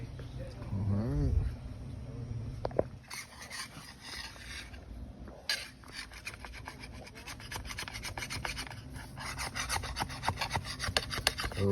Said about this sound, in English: we just went around the whole store and scraped all these little hearties up